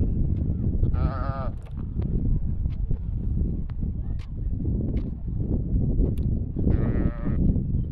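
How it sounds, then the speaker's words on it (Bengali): A cow calf bleats in a village countryside setting, two drawn-out calls a few seconds apart, near and fairly loud over a steady outdoor background with some soft clatter. "এখানে একটা গরুর বাছুর, মাকে খুঁজছে মনে হয়, গরুর বাছুর"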